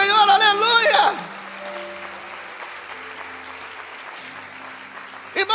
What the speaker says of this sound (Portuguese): Você pode aplaudir o nome do Senhor, aleluia.